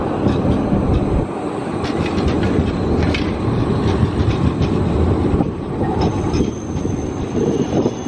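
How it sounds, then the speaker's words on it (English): A new tram rolls past beside Riga Central Market, a loud, steady rumble of wheels on rails with faint squealing and clatter throughout, close by and with no voices. "And here's one of the lovely new trams."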